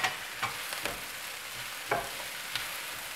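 Onion, garlic and ginger fry gently in a pan for Sri Lankan pan rolls, a low hiss of oil broken by a few sharp spatula scrapes at irregular intervals, close and quiet with no voices.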